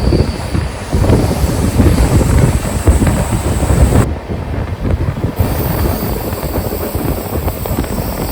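The Raptisagar Express runs through a small station without stopping, a loud, steady rumble of rolling wagons and wheels with strong wind buffeting the microphone and a brief dip partway through.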